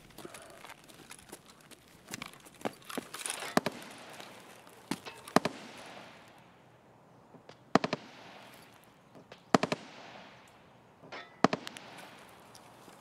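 Sharp gunshots from the game Escape from Tarkov crack out in scattered single shots and short bursts, some loud and close, others fainter, over a quiet background with no talking.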